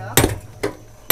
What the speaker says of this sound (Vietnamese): Cái búa ngắn quá.